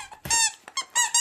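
Dog's rubber squeaky toy squeaking in repeated short bursts as it is chewed, loud and close, a handful of sharp squeaks with brief pauses between them.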